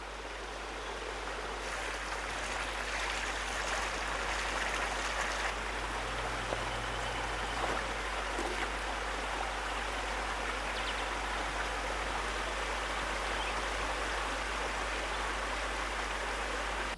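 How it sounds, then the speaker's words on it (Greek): A waterfall pours over stone on Mount Athos, a constant, dense rushing hiss that stays steady and full throughout, with no voices. "Το τραγούδι του καταράκτη, η φθόγγη του νερού και της πέτρας"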